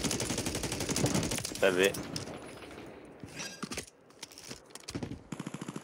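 Rapid gunfire in a video game rattles in bursts that stop and start, with a few sharp single shots, under a voice speaking French.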